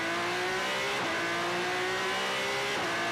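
Formula 3 race cars blasting off the starting grid at the 2023 Macau Grand Prix, a dense, loud engine roar climbing steadily in pitch with brief gear-change dips, continuous over the full stretch.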